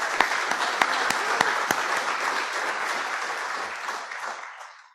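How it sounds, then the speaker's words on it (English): A conference crowd at BSides Nashville applauds its sponsors with a full, dense burst of clapping, a few sharper claps standing out near the start before the sound gradually thins and fades away. "Let's give them all a round of applause."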